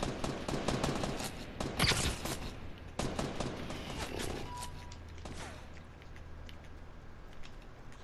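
Rapid volleys of gunfire from a Fortnite Battle Royale duos match crackle in several loud bursts early on, then thin out into quieter, more distant shots.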